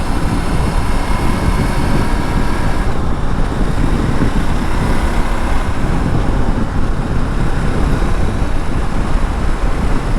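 A 2021 Ducati Multistrada V4 S motorcycle rides along a road with throttle response set to Sport. Loud, steady engine drone blends with rushing wind noise throughout, with no pauses.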